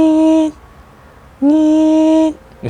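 Voice imitating the creaking squeak of a playground swing, two long drawn-out nasal squeals separated by a pause, close and fairly loud.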